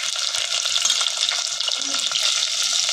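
Chopped onions for egg biryani sizzling and frying in oil in a pan, a dense continuous crackle with a few stirring scrapes.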